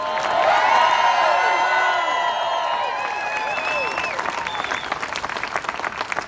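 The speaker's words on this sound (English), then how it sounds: "can we cheer for them?" An outdoor crowd at a medical freedom rally at the Capitol Building in Olympia, Washington claps and cheers loudly, with whoops over dense applause that gradually thins toward the end.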